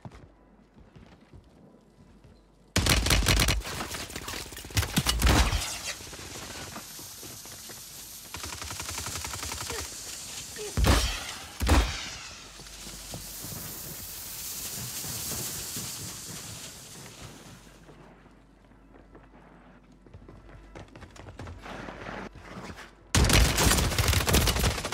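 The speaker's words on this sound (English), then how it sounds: "No, he shot me from the roof." Gunfire in the Warzone 3 video game, with one-shot rifle bursts coming in loud, sharp clusters near the start and again at the end, separated by a busier middle of scattered shots and game noise.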